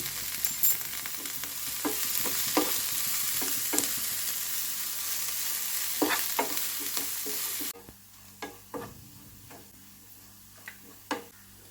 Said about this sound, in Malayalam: ഇത് നന്നായിട്ട് വഴറ്റിയെടുക്കാം അല്പം ഉപ്പും കൂടി ചേർക്കാം